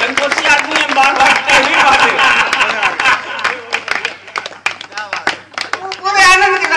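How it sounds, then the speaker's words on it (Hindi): A live audience at a Hindi comic poetry recital bursts into loud, dense clapping that tapers into scattered claps, with voices talking over it before a final swell of applause. "जोरदार ताली बजाइए।"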